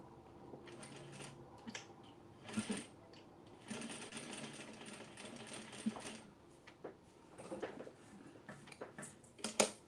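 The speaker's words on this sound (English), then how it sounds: "I'm gonna top stitch right along the bottom." A sewing machine top stitches along the bottom of an oversized denim tote with a leather back, running in short bursts of fast mechanical ticking with pauses between runs, close and fairly quiet.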